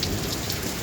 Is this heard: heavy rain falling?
yes